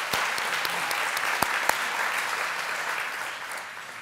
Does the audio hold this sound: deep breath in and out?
no